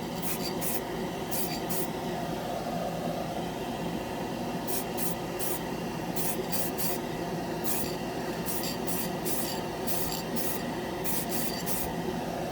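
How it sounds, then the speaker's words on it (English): A Titans Hobby primer spray can hisses steadily as it coats a plastic scale model part. The spray is continuous and close, with faint clicks and no talking. "I do like the way they spray, though."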